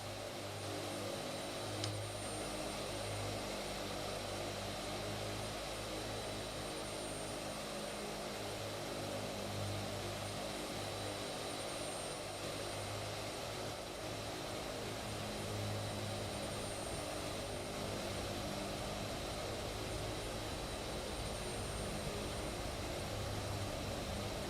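Loud, steady four-engine turboprop drone of a C-130 Hercules, the Dirty 30, in a flight simulator game, a continuous propeller hum and whine with no talk.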